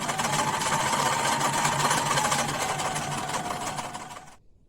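A sewing machine runs continuously while stitching a microfibre towel scrunchie, a steady close mechanical whir that holds for several seconds and then stops abruptly.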